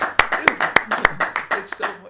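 An audience claps to welcome a speaker to the stage at a live podcast show: a couple of seconds of sharp, irregular hand claps close by, with voices talking underneath.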